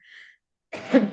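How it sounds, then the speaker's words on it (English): A single sharp sneeze from someone at a literary festival talk, loud and close, preceded by a brief faint tone and a short silence. "bless you"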